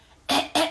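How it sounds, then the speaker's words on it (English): Two quick, harsh throat-clearing bursts close to the microphone, one right after the other. "I have to clear my throat"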